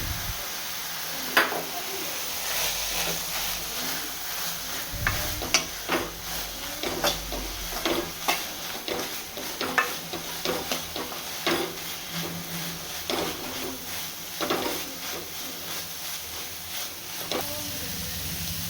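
Grated coconut stirred into a pot of sprouted horse gram rasam, with irregular scraping and clicking spoon strokes over a steady soft sizzle and hiss, close and moderately loud.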